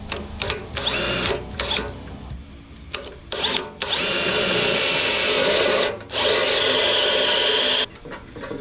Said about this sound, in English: I'm going to drill a hole, get it done